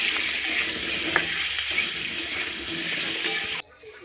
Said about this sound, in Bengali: তেলটা গরম হয়ে গেলে আলুগুলো দিয়ে দিলাম